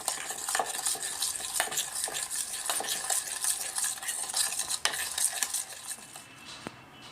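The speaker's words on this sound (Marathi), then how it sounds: "अशी थोडी थोडी साखर टाकून डबल फेटून घ्यायचं।" Ghee and sugar are whisked by hand in a bowl, giving a close, rapid scraping and swishing rhythm with occasional sharp clicks against the sides, fading near the end, without voices.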